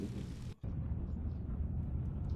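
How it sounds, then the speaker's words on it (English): An explosion in a Jade Empire cutscene: a sudden break, then a deep rumbling eruption that rolls on steadily and moderately loud, with no speech. "It exploded."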